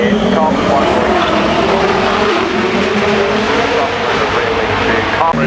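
Loud race car engine from a carbon-fibre Porsche 930 TAG Turbo with a rear-mounted MP43 engine, droning steadily at close range amid a crowd at a Goodwood Festival of Speed event, with voices mixed in.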